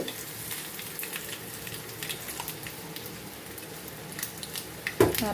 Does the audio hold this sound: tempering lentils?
yes